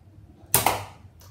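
A small toy Nerf gun fires a dart with one sharp close snap and a quick second click, then a faint tap follows in an otherwise quiet room.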